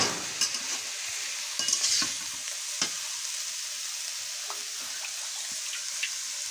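A pan of food sizzles steadily while a utensil stirs it, with scattered scrapes and taps against the pan over a constant frying hiss.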